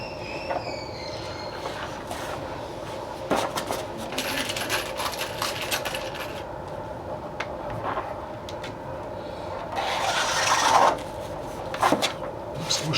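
Metal washers clink and jingle in several light, scattered taps and rattles against hard parts while building a rack for scuba tanks, close and fairly quiet.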